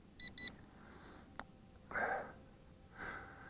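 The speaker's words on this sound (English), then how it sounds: "And it's beeping on its own." A JJPRO X3 Hax GPS brushless drone gives two short, sharp electronic beeps on low battery early on, followed by faint clicks and breathy noise, with no talk.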